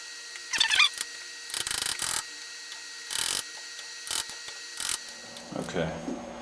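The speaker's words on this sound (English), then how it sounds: "I'm tightening this nut. I'm not yanking on the wrench," A wrench tightens a nut on a toolpost grinder: a string of short, close metallic scraping and clicking bursts separated by brief pauses, with a faint voice near the end.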